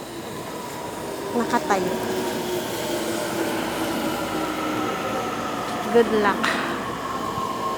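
A local commuter train in Japan rides at night during rush hour, with a steady rumble of wheels on rail and a couple of brief squeals and rattles, while a person talks quietly over it.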